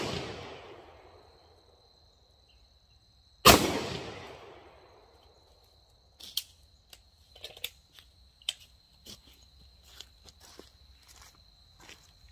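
Two sharp, loud 9mm gunshots are fired at body armor from 10 feet, each with a decaying echo, followed by scattered footsteps and light handling clicks.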